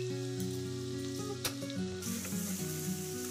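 Chopped carrot, capsicum and beans frying in a pan for street-style veg noodles, a close sizzle with a sharp clatter from a utensil partway through.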